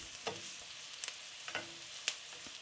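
Mushrooms cooking with onion and pepper in a pan give a faint, steady sizzle, with a few sharp clicks and scrapes from stirring scattered through it.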